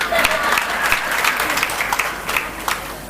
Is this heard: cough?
no